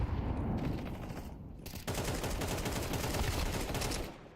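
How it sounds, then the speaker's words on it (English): Rapid, sustained video-game gunfire crackles loud and dense for several seconds, with a brief lull near the start and a heavy explosive burst from a thrown grenade in the mix; no talk over it. "I'm throwing a grenade."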